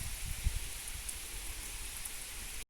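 Steady rain falls without a break, a continuous even hiss that stays constant throughout, with no voices or other clear sounds over it.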